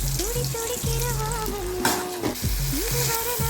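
Onions and curry leaves frying in hot oil while being stirred for an eggplant thokku, a steady close sizzle broken by scraping strokes, with background music running throughout and no talking.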